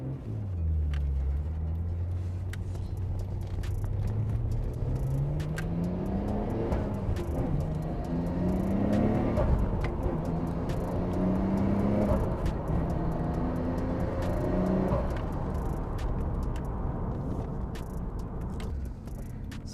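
A Nissan Skyline GT-R R34 V-Spec on a test drive around a shop, its engine a low rumble climbing through repeated pitch sweeps as it accelerates, at moderate distance and fairly quiet.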